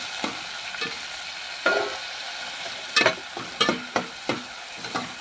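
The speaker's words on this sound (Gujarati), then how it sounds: "ઘડીક હવે ડુંગળીને અને લસણને આપણે હવે થોડુંક આપણે હલાવી લેવું" Onion and garlic cook in a pan under a faint, low sizzle, punctuated by roughly ten distinct scrapes and taps of a spoon stirring, some in quick clusters, close by and free of speech.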